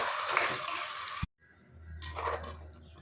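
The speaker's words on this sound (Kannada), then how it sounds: "ಆ ಮಸಾಲೆನ ಹಾಕ್ಕೊಳ್ತೀನಿ ಹಾಕಿ ಮಿಕ್ಸ್ ಮಾಡ್ಕೊಳ್ತೀನಿ" Ground masala tipped into a hot oiled pan and stirred for a fresh avarekalu huli sambar, a close, steady sizzle and scrape that cuts out briefly, then resumes with a low hum underneath.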